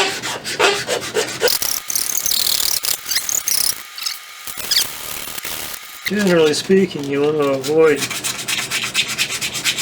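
Wood being sanded with 220 grit paper wrapped around the face of a file, for fitting a patch box latch on a Kibler colonial rifle kit: close, rhythmic rubbing strokes in bursts with short pauses, and someone talking partway through.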